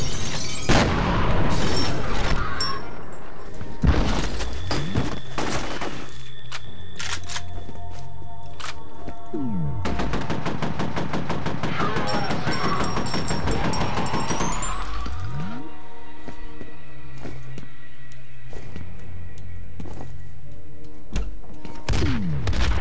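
Rocket launcher blasts and gunfire in the first-person shooter F.E.A.R. come as a run of loud booms and sharp thuds, with rapid crackling shots in between, close and continuous, without speech.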